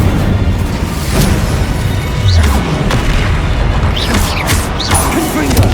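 Incendio fire spells cast in combat in Hogwarts Legacy, a continuous loud rumbling blaze with booming bursts and crackling impacts throughout, a voice calling out spell names over it.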